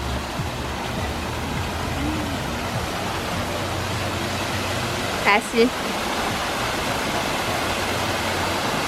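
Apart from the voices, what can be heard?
swimming pool cascades, running water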